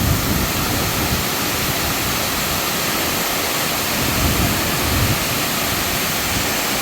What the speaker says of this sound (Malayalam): വെള്ളച്ചാട്ടത്തിന്റെ അടുത്തേക്ക് പോവുകയാണ്